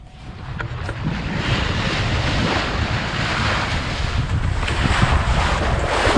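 A sailboat under full sail crossing Mackie Shoal toward the Berry Islands, with a steady rush of wind and waves washing along the hull, loud and continuous, with heavy wind buffeting on the microphone.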